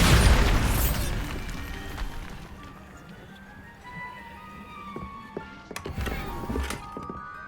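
Bombarda blasting spell in the Hogwarts video game goes off with a heavy boom and thunk at the start, then rumbles and fades, and smaller pops and clatters follow.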